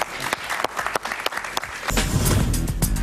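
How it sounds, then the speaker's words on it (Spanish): Audience applause breaks out, scattered claps at first then swelling into fuller, louder clapping from a nearby crowd. "Un aplauso para ella,"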